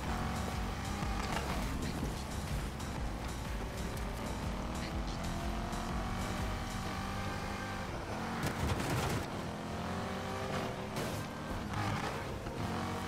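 A V8 race car engine revving and accelerating in the Need for Speed video game, a loud continuous roar with rising pitch sweeps and a burst near the end, with someone talking over it.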